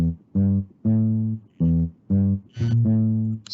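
Pumped up bass synth preset from BandLab plays a series of five punchy, sustained bass notes in a steady rhythm, loud and close with no voices.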